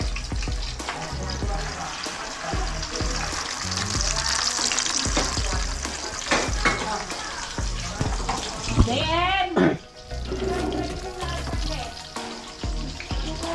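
Squid balls frying in a pan at a New Year celebration in Cavite, a constant close sizzle with scraping stir strokes, one sharp clatter partway through.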